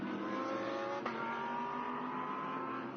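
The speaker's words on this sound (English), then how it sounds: "These cars are very skittish and certainly very brutal when you get on the throttle." A Mercedes GT3 race car on circuit during China GT3 qualifying, its engine roaring loud and close with a quick upshift about a third of the way through, then a sustained hard-revving note.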